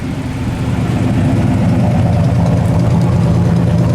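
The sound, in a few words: 1971 Buick GS 455 engine idling, Flowmaster dual exhaust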